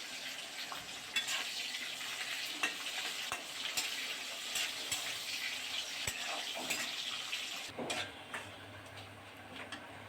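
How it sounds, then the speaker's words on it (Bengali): Chopped onion frying in oil with whole bay leaves, cardamom, cinnamon and cloves, a soft continuous sizzle broken by light ticks of a stirring spoon against the pot, no talk. "পেঁয়াজ বাদামি করে ভেজে নিয়েছি।"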